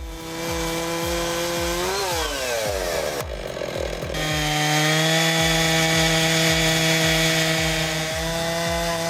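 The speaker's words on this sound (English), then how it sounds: "With an aluminum guide bar that extends for ultimate accuracy, it's like having an Alaska mill that's more stable and easy to maneuver." A chainsaw mill with an extending aluminum guide bar cuts through wood: a loud, continuous buzzing engine whine that dips and shifts pitch under load midway, then settles into a steady high cut with no voices.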